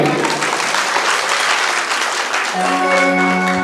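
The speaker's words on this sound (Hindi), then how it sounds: "चलिए एक बार जोरदार ताली बजाइए।" Dense crowd applause at a manas mandali devotional singing performance, loud and sustained for a couple of seconds before instrumental music takes over while clapping continues underneath.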